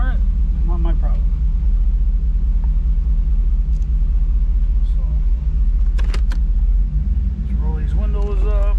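A car rolls back into a home garage under a steady low engine rumble that runs through the whole stretch, with brief clicks and short bursts of talk over it.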